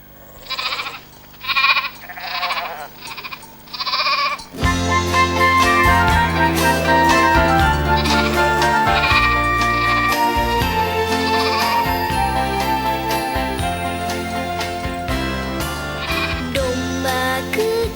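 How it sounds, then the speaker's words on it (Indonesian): Several short sheep bleats sound in quick succession during a church Christmas performance, then band music with heavy bass starts abruptly and plays loudly through the rest. "Domba kecil, hilang di atas bukit"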